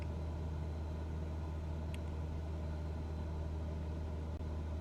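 A small aircraft engine in a NeoFly flight simulator game throttles back slowly, giving a steady, low, continuous drone with no other sounds over it.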